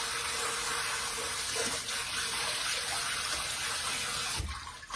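Sliced bananas being washed in salt water, heard as a steady, fairly quiet stream of running water splashing continuously before stopping near the end, with no voices.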